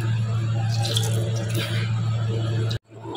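Homemade mozzarella cheese squeezed by hand to press out the whey, soft wet squishing and faint dripping over a steady low hum, close up, ending in a brief cutoff.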